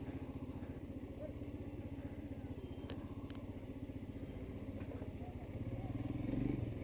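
A Royal Enfield Himalayan motorcycle engine while riding through the streets of Kathmandu, Nepal, a steady low thumping single-cylinder putter close by that swells slightly near the end.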